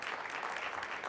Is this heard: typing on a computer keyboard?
no